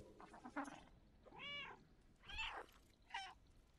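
Several short meows from a cat in the video game Stray come one after another, with rising and falling pitch and brief pauses between them, close but quiet.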